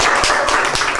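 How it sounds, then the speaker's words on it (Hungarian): Dense, steady applause from an audience greeting a Hungarian hopeful at a mock Olympic final broadcast, filling the whole short moment at full volume. "Kérnék szépen egy nagy tapsot a magyar reménységnek."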